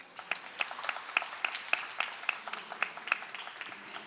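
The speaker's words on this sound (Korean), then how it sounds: "큰 박수 부탁드립니다" Sparse, scattered applause at a formal Korea–Japan diplomatic forum, with individual claps picked out rhythmically in a quiet hall, fairly faint and distant.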